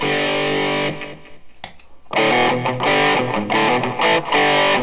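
Electric guitar played through a Boss DS-2 distortion pedal in turbo mode, loud and continuous with a nasal, mid-heavy hard rock tone, sustained chords broken by a brief muted pause before the playing resumes.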